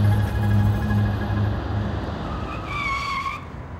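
A car braking hard to a stop, tires skidding with a loud, drawn-out squeal that fades and then briefly rises in pitch before cutting off.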